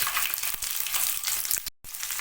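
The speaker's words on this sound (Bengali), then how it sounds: "সমস্ত উপকরণ আমি একটু ভালো করে ভাজা ভাজা করে নেব" Garlic, chopped onion and dried red chillies fry in hot oil with black cumin for a mixed mashed bhorta, making a loud, close sizzle with scattered spattering pops that cuts out abruptly near the end.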